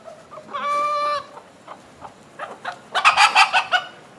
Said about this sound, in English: These are the chickens.